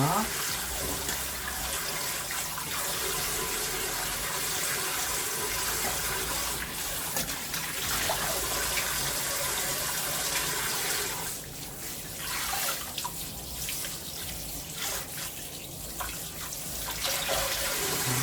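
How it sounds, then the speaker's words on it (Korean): Chinese toon sprouts are rinsed under a running kitchen tap, a steady close water stream splashing continuously with brief shifts as the sprouts are moved under the flow. "자 이렇게 씻어서"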